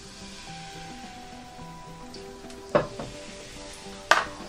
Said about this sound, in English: We heat the pan in a medium fire and let it really so hot before you put the mixture of pancake or crepes.